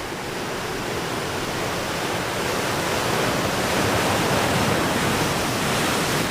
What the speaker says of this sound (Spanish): No se oía ningún sonido, solo el ruido del viento y del mar.